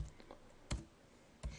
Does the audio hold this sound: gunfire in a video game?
no